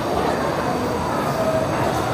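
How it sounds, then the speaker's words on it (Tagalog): An MTR subway train at Wan Chai Station in Hong Kong, a loud continuous rumble and roar from below, with a faint brief wheel squeal. "Dito kasi sa baba yung train nila."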